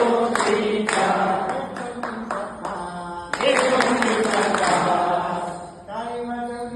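Hands clapping in time with a sung children's counting song: a run of short, sharp claps in a steady rhythm alongside a singing voice.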